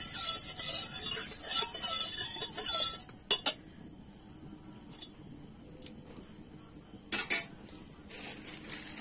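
Melted ghee stirred in a kadai, a spoon scraping and clinking against the metal pan in short bursts over a faint frying hiss, close, with quieter gaps between strokes.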